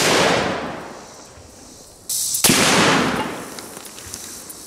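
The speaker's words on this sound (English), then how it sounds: "let's shoot it one last time, and this time we'll use a full metal jacket with a steel core" A .50 BMG rifle fires a full metal jacket steel-core round at a kettlebell outdoors, a single sharp, loud blast with a trailing echo, followed by a faint ring.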